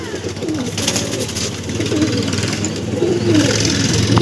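Andhra and Kalankha breed pigeons coo in soft, rolling bursts near at hand, over a low rumble of engine noise in the background.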